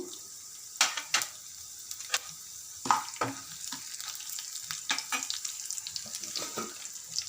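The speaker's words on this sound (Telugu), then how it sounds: "ఆయిల్ వేడక వేడయ్యాక జీలకర్ర ఆవాలు మినపప్పు శనగపప్పు పోపు దినుసులు అన్నీ వేసుకోవాలి" Cumin, mustard seeds, urad dal and chana dal crackle and sizzle in hot oil, with sharp irregular pops over a soft steady hiss, close and moderately quiet.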